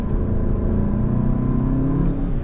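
A tuned VW MK7 GTI with a flashed DSG transmission accelerates hard, its engine droning loud and steady with a dense harmonic rumble from inside the cabin, no voices over it.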